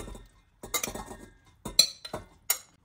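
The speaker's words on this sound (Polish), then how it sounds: "Kapustę przekładam do garnka." About 800 g of homemade sauerkraut goes into a cooking pot, making a few close clinks and scrapes of a utensil against metal and dishware in short, separated bursts within a quiet kitchen.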